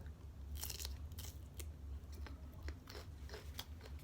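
Close, crunchy chewing and biting of kaeng tai pla khua, a Thai fish curry, with rice, heard as a steady run of wet crunches alone with no talk.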